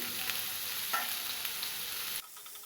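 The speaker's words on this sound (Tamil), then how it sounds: "வெங்காயம் நல்லா வதங்கட்டும்." Close, steady sizzling of onions and green chilies sautéing in a pan, with faint stirring, before the frying noise suddenly drops away near the end.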